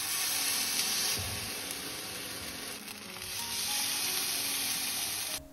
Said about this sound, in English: I fried it up in a bit of coconut oil